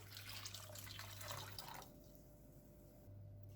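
Hot water pours into a pot of soup with green lentils and noodles, a close splashing stream for under two seconds before it stops, leaving a quiet background hum.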